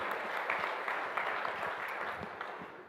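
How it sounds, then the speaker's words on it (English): Steady applause from a lecture audience as a hematology department head takes the podium, a full even wash of clapping with no speech over it. "Big round of applause as he takes the podium"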